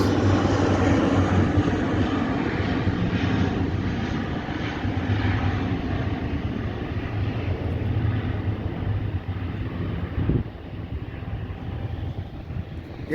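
Near London City Airport, a fixed-wing airplane's engine roars loud and sustained through wind buffeting on the microphone, then the noise eases toward the end.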